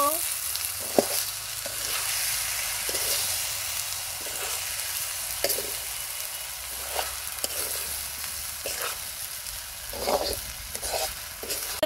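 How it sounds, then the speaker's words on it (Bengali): Polao rice frying in a pan with garlic and onion, a steady close sizzle with regular scraping stirs of a spatula, no voices. "পোলাওয়ের চালটাকে খুব ভালোভাবে কষিয়ে নিতে হইব।"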